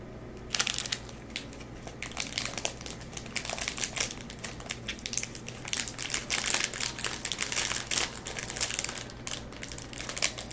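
A plastic oyster cracker snack package crinkles close to the mic during a live gaming stream, a dense, continuous crackling that keeps going for the whole stretch with no talk.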